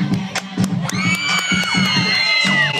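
Audience at a live variety show cheers and whoops with scattered shouts, loud and close, while rhythmic music thumps underneath; high voices and squeals rise over the crowd throughout.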